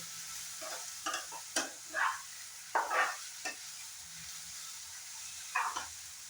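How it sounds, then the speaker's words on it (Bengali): Tomato, onion and green chilli for rajma are stirred and fried in a pan, giving soft sizzling under a string of short scraping stirs that come in clusters against a quiet background. "এখন সবগুলো জিনিস খুব সুন্দর করে ফ্রাই করে নেব।"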